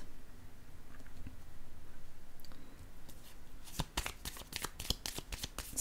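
Tarot cards are handled and shuffled close by, with quiet rustling at first, then a quick series of crisp, sharp riffling slaps toward the end.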